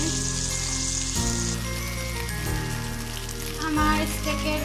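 A rib-eye beef steak cooks in a covered pan on low heat, its gentle hiss and crackle holding steady beneath prominent tonal background music.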